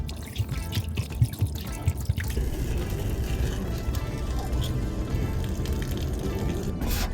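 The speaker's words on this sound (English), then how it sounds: "gotta make sure that this is draining as it's supposed to." Water trickling and draining through a newly installed gutter, a few irregular drips at first, then a steady, close, continuous trickle.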